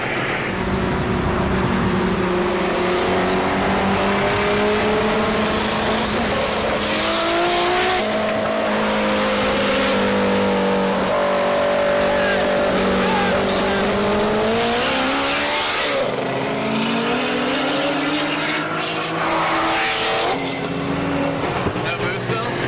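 A tuned car roars at speed at a street-racing event, the engine revving loud and close with rising and falling pitch as it accelerates and shifts, tire noise mixed in, and voices talking over it.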